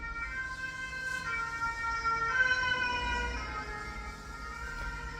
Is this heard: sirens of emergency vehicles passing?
yes